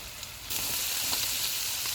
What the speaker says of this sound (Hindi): अब इसमें हम अदरक और लहसुन का पेस्ट डाल देंगे। इसको हम 1 से 2 मिनट तक फ्राई करेंगे।